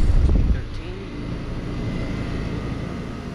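A 2011 three-ton Trane XB heat pump outdoor unit running in heat mode, iced over and behaving oddly, giving a steady low mechanical drone with fan hum; a brief louder rumble at the start, wind-like noise throughout, close by.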